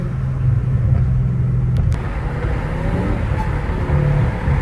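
Dodge Challenger Hellcat Redeye with a catless exhaust, a deep steady rumble of the engine cruising at night, continuous low drone without clear revving, heard from inside.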